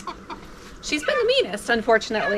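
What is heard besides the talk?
chicks calling out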